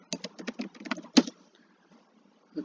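Quick bursts of keystrokes on a computer keyboard while HTML code is written, a dozen or so close clicks in an uneven run, one louder tap, then near silence and a final click.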